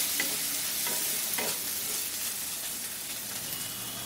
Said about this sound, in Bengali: আদা রসুন পেস্টটা দিয়ে দিলাম একটু